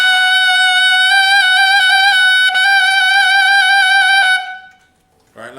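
A tenor saxophone sounds a sustained A with the side C key held, a bright, steady reedy tone with slight wavering trills, loud and close, ending abruptly before a short breath or noise.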